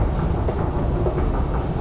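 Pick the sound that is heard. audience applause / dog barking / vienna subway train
vienna subway train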